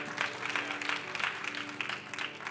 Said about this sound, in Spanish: Denle ese fuerte aplauso al Señor porque Él es bueno.